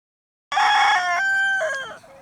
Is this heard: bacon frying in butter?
no